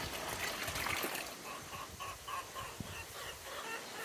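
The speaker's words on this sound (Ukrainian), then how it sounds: "Заливаємо сюди до нашої полуниці воду." Water, about three litres, is poured into a container of strawberries for homemade strawberry wine, making a steady, quiet trickle and splash that runs throughout.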